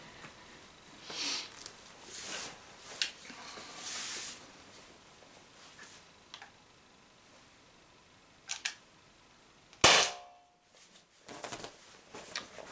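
A stock Umarex HDP50 pistol fires one sharp, loud crack near the end, after a series of quieter handling clicks, followed by a brief quiet gap.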